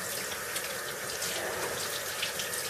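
Homemade cheese drains its liquid in a continuous, hissing trickle, steady and fairly close throughout, with no voices.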